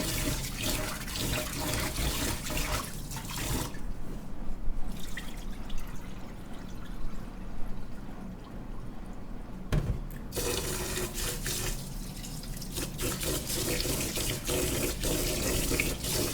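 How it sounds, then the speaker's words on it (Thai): Jasmine rice washed in a sink under a running tap, a steady splashing stream of water near and loud, briefly easing to quieter dripping and swishing in the middle before the flow returns. "เราก็จะนำมาซาวล้างค่ะ ทำเหมือนปกติที่เราหุงข้าวเลยนะคะ ล้างให้สะอาดสักสองน้ำ"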